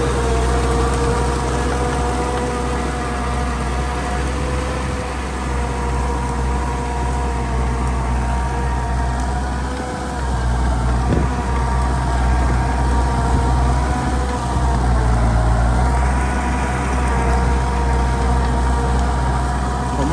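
A 60 hp turbo tracked rice-field tractor runs with a steady, loud diesel drone and constant mechanical hum, close by and unbroken for the full stretch with no talking.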